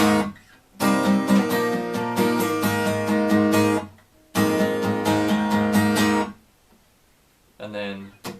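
Acoustic guitar strumming chords for the pre-chorus of a song, two rhythmic bursts of several seconds each separated by a short pause, with a brief spoken moment near the end.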